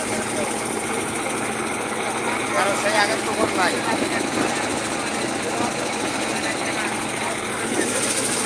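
A sea fishing trawler's engine runs in a steady, loud, droning hum throughout, with people talking over it.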